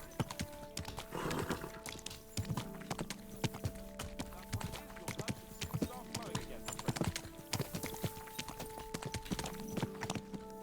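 Horse hooves clip-clopping in the video game Kingdom Come: Deliverance II, a steady rhythmic series of sharp hoof strikes with a brief whinny, mixed with keyboard clicks and speech.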